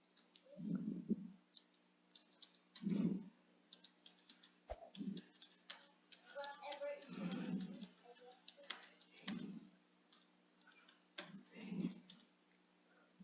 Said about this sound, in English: I'm literally typing so loud